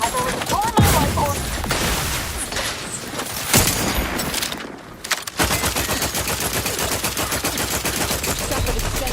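Dense rapid gunfire from the video game Outer Worlds 2, loud near bursts of automatic fire and booms running almost continuously, mixed with game voices.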